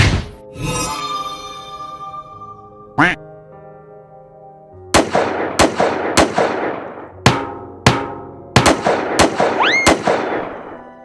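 Cartoon gunfire from a police officer scaring off a lion: a string of sharp, loud bangs fired in quick irregular succession, after a stretch of squawky tones and a single earlier shot.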